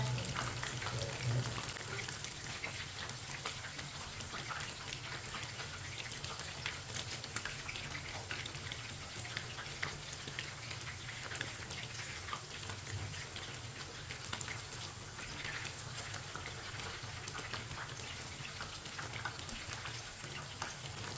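Chicken pieces fry in a pan, giving a steady, dense sizzle and crackle that holds at an even level throughout, close and continuous with no talk over it.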